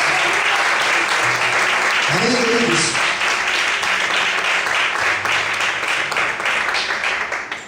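A church congregation applauds during a couples' talk, a loud, sustained burst of many hands clapping, with a voice speaking briefly over the applause as it begins to fade at the end.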